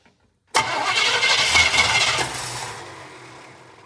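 A 1981 Pierre Cardin Evolution 1 car with a loose distributor cranks briefly and fires, its engine catching with a loud, busy roar that settles and fades toward a rough idle.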